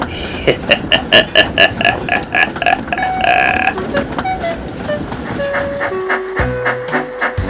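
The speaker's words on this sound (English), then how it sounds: "Rosie puffed happily along the line towards Kirkronan" An animated steam engine puffs along a railway line, with rhythmic chuffing bursts and rolling clatter, ending in a few short whistle-like toots, with no talk.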